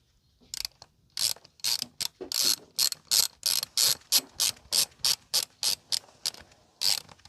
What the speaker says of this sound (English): Now reinstall the screw holding the fairing to the frame.